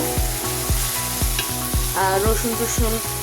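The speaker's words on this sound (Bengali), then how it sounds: "পেঁয়াজটা এখনও সতে হচ্ছে, একটু ভাজা ভাজা না হলে আমি বাকি বাটা মশলা দেবো" Onions sautéing in a pan for a chicken filling, a steady close sizzle with rhythmic stirring scrapes repeating about twice a second, no voices.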